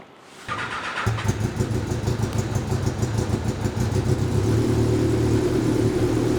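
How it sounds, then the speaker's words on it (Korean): The small, high-revving engine of a 2022 Super Race GT1 racing car, rated at about 180 horsepower at 11,500 rpm, cranks and fires up close by, then holds a loud, steady, rough idle with slight rises in revs. "이 차도 시동이 걸리나요? 네, 걸립니다. 한번 걸어봐 주실래요?"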